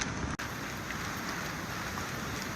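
Rain falls around a small roadside tea stall on the way to Devkund waterfall, a steady close hiss of drops on surfaces with one brief dip near the start and no voices.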